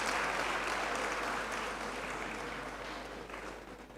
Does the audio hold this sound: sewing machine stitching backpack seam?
no